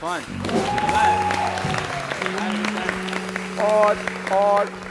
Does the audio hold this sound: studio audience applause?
yes